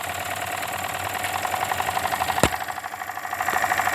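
A Jensen #55G toy steam engine with SPS modifications runs steadily nearby, giving a fast, even chuffing and mechanical knocking rhythm throughout, with one sharp clack midway and no talking.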